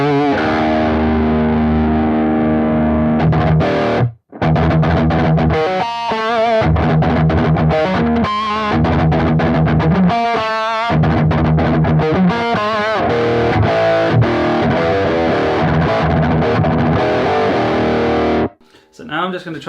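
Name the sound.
distorted electric guitar through Tube Screamer pedal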